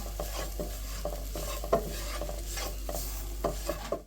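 Masala being sautéed and roasted in a pan, a spoon stirring and scraping in repeated strokes over a steady close sizzle, with no voices.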